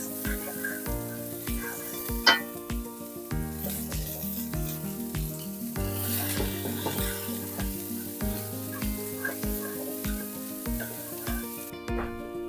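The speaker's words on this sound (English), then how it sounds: "So I'm pan frying my veggies." Steady sizzle of vegetables including red peppers pan-frying throughout, with a soft rhythmic thumping pattern running underneath and occasional sharper clinks.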